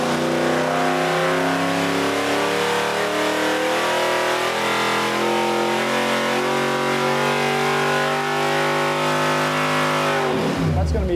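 A V8 engine on a dyno, fitted with budget cylinder heads, revs steadily from about 2,000 to 6,000 RPM, a loud, continuous rising roar whose pitch climbs across the whole run before cutting off sharply at the end.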